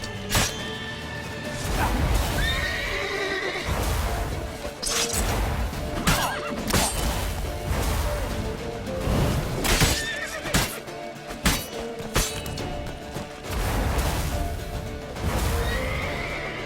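Loud, close horse neighs and galloping hoofbeats from The Witcher 3 run on and off, mixed with crashes and impacts throughout the stretch, with no talking.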